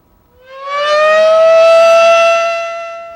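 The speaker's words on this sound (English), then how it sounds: "a huge earthquake off the coast of Japan set off the tsunami warning sirens in Westport" Tsunami warning siren in Westport, Washington, sounding after a large offshore earthquake: a single loud, steady wail that rises in pitch, holds, then begins to fall, with no other sound around it.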